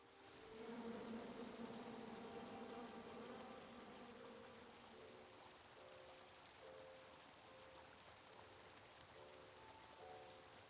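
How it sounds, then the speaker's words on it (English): A swarm of angry bees from a tree in the King's Quest game drones in a continuous, wavering buzz with rising and falling tones, faint and steady throughout with no talking. "you chop down the tree full of angry bees"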